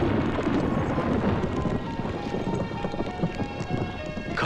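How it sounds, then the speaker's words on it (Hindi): A storm with heavy rain pours as a dense, steady hiss, with low rumbles of thunder mixed through it and scattered heavier drops, continuous for the whole stretch. "कमाल का तूफान आया यहाँ।"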